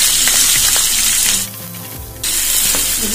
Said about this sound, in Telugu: ఇప్పుడు వచ్చేసి ఆవాలు, కొద్దిగా జీలకర్ర, ఉల్లిపాయలు కట్ చేసి